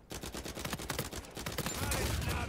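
A run of rapid sharp gunshots crackles in an Uncharted 4 multiplayer firefight, with quick repeated bangs at moderate distance followed by a swelling low rumble.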